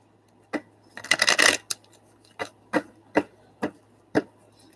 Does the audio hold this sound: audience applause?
no